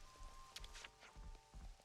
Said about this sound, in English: There's rain.